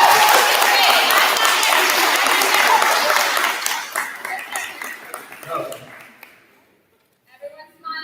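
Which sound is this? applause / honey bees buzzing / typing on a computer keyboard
applause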